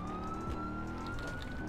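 A police car siren sounds during a chase, holding a steady, faint tone above rumbling road and engine noise.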